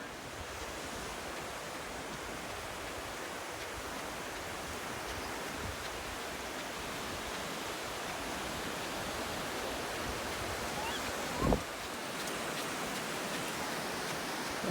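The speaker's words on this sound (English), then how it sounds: "look at the waves" Steady, broad ocean surf washes onto a beach at Hilton Head, a continuous distant roar of breaking waves mixed with wind buffeting the microphone, with one brief bump partway through and no voices.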